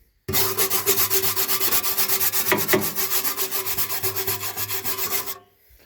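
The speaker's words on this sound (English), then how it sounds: "So I'm going to leave this rusty, scrape this." Dense, rhythmic scraping of a tool across rusty metal, loud and close, running steadily for about five seconds in fast repeated strokes before stopping abruptly.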